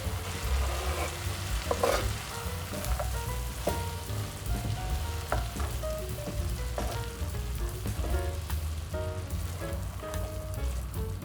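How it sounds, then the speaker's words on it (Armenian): A spoon stirs a pot of rice and lentil pilaf with fresh herbs just after the heat is turned off, giving close, repeated scraping and soft clicks over a continuous faint sizzle. "անջատում ենք, խառնում ենք"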